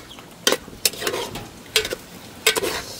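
Ginataan gabe, taro simmered in coconut milk, is stirred in a pot, giving a few spaced scraping strokes of a spoon against the pot over a soft bubbling background.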